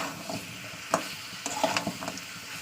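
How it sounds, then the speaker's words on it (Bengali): Curry with pui shak (Malabar spinach) stems and potato being sautéed dry in a pan, with soft sizzling and a few scraping stirs of a spatula, moderately close and without speech. "একটু ভালো করে কষিয়ে নেবো"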